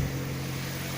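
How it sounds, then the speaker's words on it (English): A 2001 Opel Astra G with the Z12XE 1.2-litre petrol engine idles steadily, a low, even hum with no change in pitch or level over the short stretch. "But the engine sounds really good for now."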